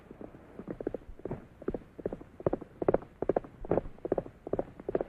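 Horse hooves clip-clop in a steady, even rhythm, close by and moderately loud, with no voices, on the soundtrack of a 1944 Western film.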